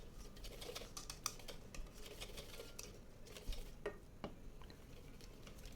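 Flour dough mixture for Jogja-style jadah manten being stirred in a bowl, quiet scraping and soft clicking strokes in an irregular rhythm, close and faint with no talk.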